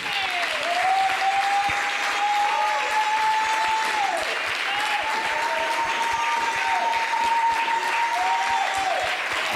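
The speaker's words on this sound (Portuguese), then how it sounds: "Mas vamos bater umas palmas para Deus." A church congregation claps steadily through a midweek service, dense applause running the full length with a sustained tone or held voice drifting above it.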